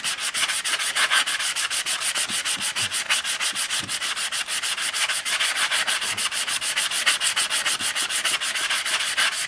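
Rhythmic back-and-forth sanding on a soft metal Opel GT gas cap, with close, steady, scratchy strokes repeating evenly and no voices.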